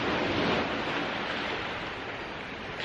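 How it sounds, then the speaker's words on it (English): Seawater washes and splashes steadily as a spider crab is rinsed in the sea by hand, a continuous loud wash of surf and wind with no voices. "John's just washing his spider crab in the sea there"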